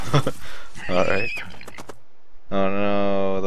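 Horse in the video game Tales of Xillia lets out a loud, clear whinny near the end, after someone speaks over game sounds.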